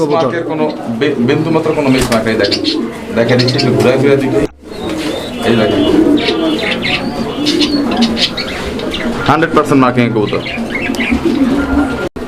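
A pair of Lahori pigeons at a fancy pigeon farm coos softly in repeated rolling calls, close by, partly masked by steady talking throughout.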